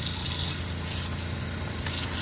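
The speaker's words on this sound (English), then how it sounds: "Turn the water on." Water gushes steadily from a newly installed galley faucet aboard a C&C 39 sailboat, a loud, close, continuous hiss and splash into the sink with no voices.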